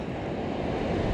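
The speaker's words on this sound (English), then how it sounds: "The waves are kind of bigger today." Ocean surf on a bright offshore morning gives a continuous, loud broadband wash and rumble, mixed with wind buffeting the microphone, with no voices.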